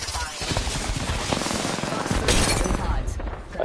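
Sustained automatic gunfire from an Apex Legends ranked firefight, dense and continuous bursts filling the clip with loud cracks, mixed with game effects and possible voice chatter underneath.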